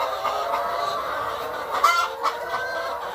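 Laying hens cluck steadily in a semi-free-range coop, a dense, continuous chatter of overlapping calls with a few louder, sharper squawks standing out near the middle.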